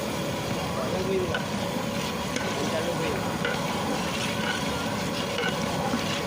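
Tomato and mixed vegetables for a wax gourd, cucumber and bottle gourd curry sizzle steadily as they are stirred in a hot frying pan, a continuous close frying hiss with scraping movement throughout.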